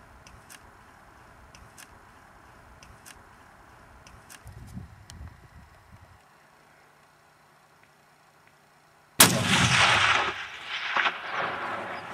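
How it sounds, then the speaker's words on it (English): A single loud hunting rifle shot fired at a Dall ram in the Alaska Range, a sharp close crack followed by a long rumbling echo after a quiet stretch of faint outdoor ambience. "Put another round in, you shot just under him."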